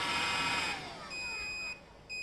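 A PowerOak AC200P portable power station beeping under an overload of nearly 2950 watts: faint, steady high electronic tones that stop and restart in short intermittent bursts over a low hum.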